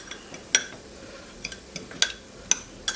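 Sweet paprika stirred into onions in a pan for a stuffed vegetable dish: a spoon scrapes and clinks against the pan in a few sharp, separate taps, close and fairly quiet, with soft rustling between them.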